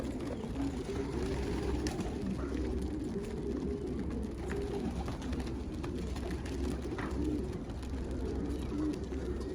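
A pet pigeon coos softly with low, repeated murmuring calls over a steady background hum, close to the microphone.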